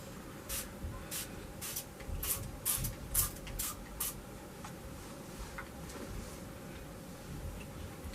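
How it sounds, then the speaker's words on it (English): Spray bottle misting water onto a face, a quick series of about eight short hissing spritzes over a steady background hiss, then quiet. "So I'm just gonna wet my face with my spray bottle just to get my face a little wet."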